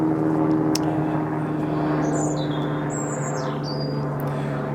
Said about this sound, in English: Noisy helicopter going over.